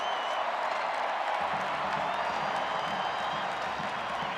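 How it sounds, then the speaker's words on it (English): A stadium crowd at a Baylor football game away at Arizona roars and applauds in a steady, loud wash, with a faint voice under the noise. "The crowd's happy. The crowd's cheering."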